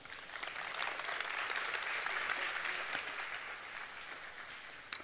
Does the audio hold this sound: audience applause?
yes